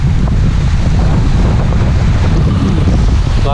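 Strong wind at a marina buffets the microphone with a constant low rumbling roar, no voices, steady and loud throughout.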